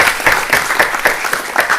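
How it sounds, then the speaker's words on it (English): Audience applause at a tech meetup on speech recognition: a steady patter of many hands clapping together, fairly close and loud throughout, with no voices over it. "So a round of applause for AI Singapore as well."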